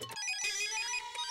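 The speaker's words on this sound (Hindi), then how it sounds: "जेठालाल फोन आ रहा है भाई।" A phone ringtone rings in a sitcom home scene, a bright electronic melodic tone sounding close and clear for a moment on its own.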